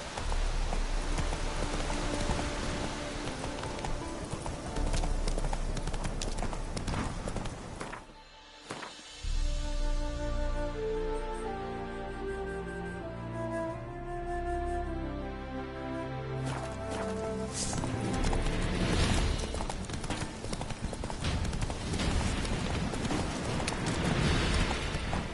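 Hoofbeats of Roach, Geralt's horse in The Witcher 3 video game, pound steadily through a long stretch of dense game sound with a brief dip near the middle, blended with rain-like noise and music.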